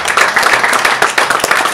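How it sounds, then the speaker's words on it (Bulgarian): Applause at a publishing award ceremony, dense continuous clapping from an audience, loud and steady throughout the short burst. "Аплодисменти"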